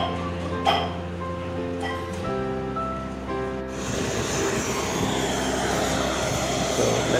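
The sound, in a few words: airplane engine at an airport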